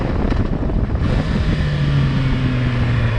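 A motorcycle downshifts while riding. The engine drones loudly under heavy wind rush, and a rising engine tone follows the shift. No one speaks.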